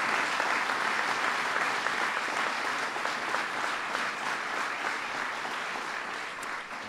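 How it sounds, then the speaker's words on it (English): A large crowd at a White House event for the Stanley Cup champion Chicago Blackhawks applauds the team owner and CEO, a dense, even wash of clapping that holds steady throughout and eases slightly at the close. "Give them a big round of applause"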